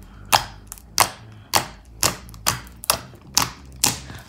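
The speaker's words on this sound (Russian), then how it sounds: "Звонко, классно, круто кликает." Sharp, crisp clicks repeat about every half second, close and loud, as glossy slime made with glue and activator is squeezed and snaps with each press.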